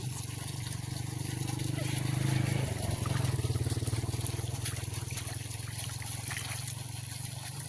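Irrigation water flows steadily into a farm field channel with a constant rushing sound and a rhythmic throbbing underneath. Voices talk over it.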